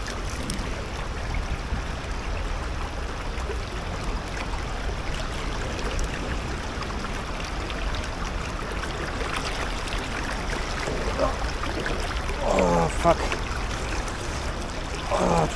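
An extremely cold river rushes steadily and close in the Italian outdoors. Water splashes and sloshes as someone wades barefoot across, with the louder splashes near the end.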